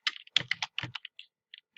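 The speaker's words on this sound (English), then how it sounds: "Let me type in here Tech" Keystrokes on a computer keyboard typing a short entry, a quick burst of clicks followed by a few scattered taps, close and fairly quiet with no talking.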